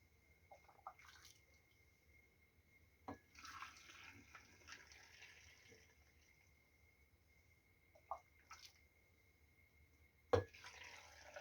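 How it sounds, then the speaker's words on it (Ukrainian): Water is poured carefully into a glass jar of tomatoes standing in a bowl, for canning. Quiet, intermittent trickles and splashes come in short bursts, with a sharp clink near the end. "І тепер буду акуратно наливати у помідори воду."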